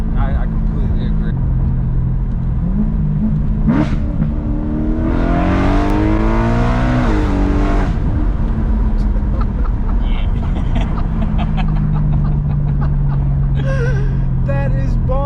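Dinan stroker BMW M3 E92 engine revving hard, rising through the gears with a climbing, roaring tone for a few seconds amid constant road rumble, while people talk over the cabin noise before and after.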